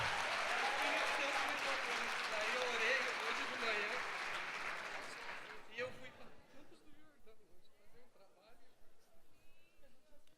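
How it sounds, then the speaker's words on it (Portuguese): A church congregation applauds a couple with dense crowd clapping and cheering for about five seconds that fades out, followed by a voice speaking over a quiet room. "Vamos dar um aplauso a Jesus aí,"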